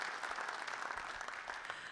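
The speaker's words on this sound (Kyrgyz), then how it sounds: "Кол чаап коюңуздар." Sustained audience applause fills an awards ceremony hall at the KPFL Awards 2024, a dense, steady wash of many hands clapping together without a break.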